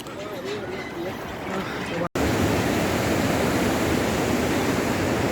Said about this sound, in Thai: ตัวนี้ก็ น้ำตกนะ